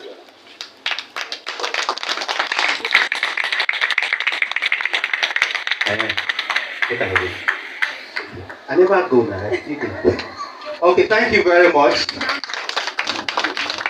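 Audience at a church sisters' quarterly mass meeting clapping steadily, a dense patter of many hands running throughout, with someone speaking over it in the second half.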